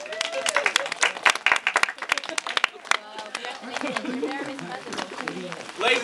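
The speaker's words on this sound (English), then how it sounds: "Give a round of applause." Crowd applause with scattered claps and cheering rising and falling, a lively mix of voices talking and calling out over the clapping throughout.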